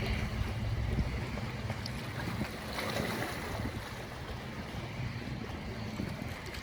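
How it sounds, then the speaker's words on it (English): Steady wind gusting on a lake shore in Alpena, Michigan, with wind buffeting the microphone and faint lapping waves underneath. "Getting windy out here."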